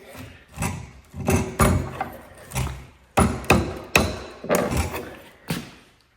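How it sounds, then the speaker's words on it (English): A wooden chair's front section is wrenched apart while its top is held in a vise, producing a close series of sharp knocks and thumps with creaking wood strain in uneven bursts. "now I can just try to pry everything off of the front one"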